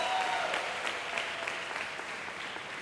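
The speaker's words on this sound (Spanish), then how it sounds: "Den un aplauso bien fuerte al Señor" A church congregation at a worship conference claps loudly and continuously in praise, a dense wash of many hands filling the room.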